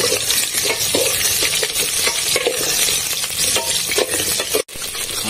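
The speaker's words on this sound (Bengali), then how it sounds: "আলুগুলো ভাজা চলছে" New potatoes fry in a pan over a wood-fired stove and are stirred, so a loud, close sizzle runs throughout with scraping and clinking from the stirring and a brief break near the end.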